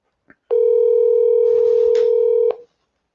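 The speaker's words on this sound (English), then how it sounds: "Let's give Bob a call and see what he wants to visit with us about." A telephone dial tone while placing a call: a single loud, steady tone holds for about two seconds, preceded by a brief faint click, then cuts off.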